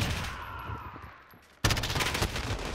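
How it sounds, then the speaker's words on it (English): Rapid gunfire from a first-person shooter video game, a dense burst of shots crackling near and loud, pausing briefly before another sustained volley breaks out abruptly. "I choked some shots there"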